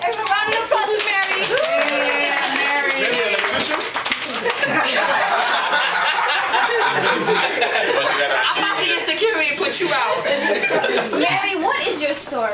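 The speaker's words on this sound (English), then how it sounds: "Everyone, round of applause for Mary." Clapping for a guest named Mary on a homemade talk show, a busy patter of hands mixed with chattering children's voices and bursts of giggling throughout.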